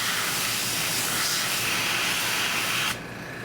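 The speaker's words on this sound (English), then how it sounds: "Pardon the airbrush in your way." An airbrush sprays paint onto an O scale model water column in a steady, close airy hiss that stops abruptly near the end.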